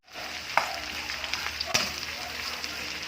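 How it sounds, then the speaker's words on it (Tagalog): Chayote dropped into a hot pan already holding half-cooked garlic and onion, giving a steady close sizzle of sautéing with a couple of sharper hits as pieces land. "so ilalaglag na natin ang ating sayote"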